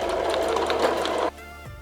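A sewing machine stitches a dress shirt in one quick, fast whirring burst about a second long, then cuts off into a quieter motor hum.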